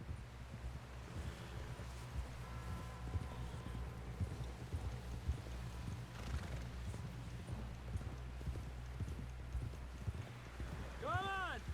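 Horse hooves clip-clop at a steady walking rhythm in the Red Dead Redemption 2 video game, over wind noise, with characters talking throughout.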